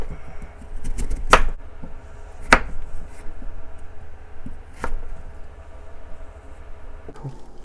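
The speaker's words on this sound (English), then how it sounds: "Let's chop this radish in similar thickness, in about this thick pieces." Knife chopping radish on a cutting board for Korean beef radish soup, a few sharp isolated cuts spaced irregularly over a quiet kitchen background, close and fairly crisp.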